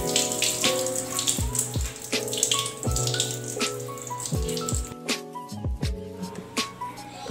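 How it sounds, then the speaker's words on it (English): Sticky rice being washed in water, with splashing and sloshing, intermittent drips and pours, and clinks of a container, under a faint musical background. "Next, we will wash our sticky rice"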